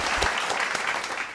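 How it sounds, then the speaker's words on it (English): Brief burst of hand clapping from a few people for a guest on a podcast set, close and lively, lasting just over a second. "I'm gonna clap it up for you"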